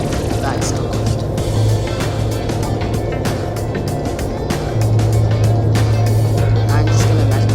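Airliner engines in a Roblox flight game hum loudly and continuously during landing, a steady low drone that swells near the end, with a voice talking over it.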